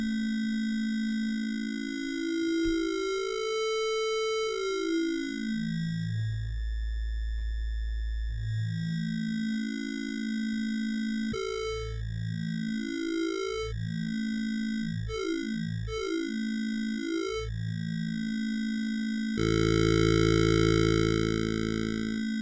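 A Manatee synth tone whose spectrum is reshaped by its formant, rotation and inversion controls, producing smooth gliding, warbling pitch sweeps that rise and fall, ending in a steady bright sustained tone.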